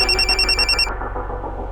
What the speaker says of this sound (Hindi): फोन उठा प्लीज